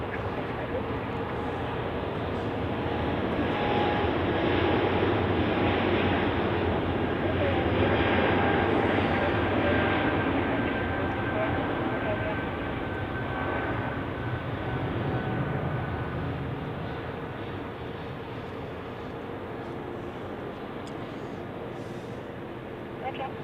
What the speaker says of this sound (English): we go forward to runway 28 again, where we have Royal Jordanian departing.